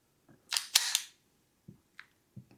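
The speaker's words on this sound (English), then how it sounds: "the bolt should stay open when I pull it back" Bolt of a Ruger Mark IV rimfire pistol pulled back on an empty magazine: a quick metallic double click-clack up close, followed by a few faint small clicks in a quiet room.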